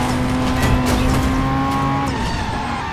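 A car racing in Driver San Francisco, engine roaring steadily with tire squeal, loud and close throughout.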